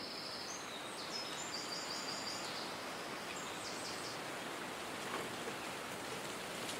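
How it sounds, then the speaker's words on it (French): Continuous wind rushing noise fills the scene, with faint high-pitched bird chirps and trills scattered behind it in the first few seconds. "on entend toujours le bruit des oiseaux derrière le sifflement du vent."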